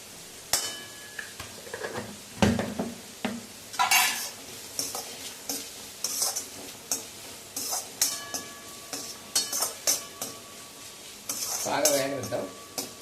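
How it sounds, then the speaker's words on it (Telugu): Mutton frying with salt and a pinch of turmeric in a pan, sizzling under repeated scraping and clattering stirs of a metal spoon, close and rhythmic with sharp knocks against the pan. "సాల్ట్ వేసి కొంచెం త్వరగా వేయించేయాలి."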